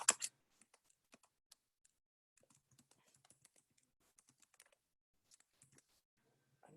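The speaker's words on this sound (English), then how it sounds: "This time I'm just going to go ahead and type it in." Typing on a computer keyboard, a quick burst of loud clacks at first, then sparse quiet key taps in irregular clusters, close and alone.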